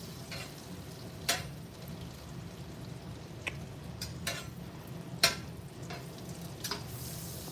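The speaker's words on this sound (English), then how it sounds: "melt this butter down" Butter melting in a pan with a quiet, steady sizzle, broken by scattered soft pops and crackles throughout.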